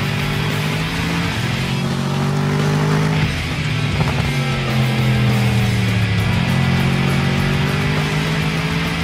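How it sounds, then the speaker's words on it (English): A loud, revving Mercedes SLS AMG GT engine on a race track roars steadily throughout, with rising and falling pitch as it accelerates and shifts, close and continuous. "Look at that fantastic engine, listen to that."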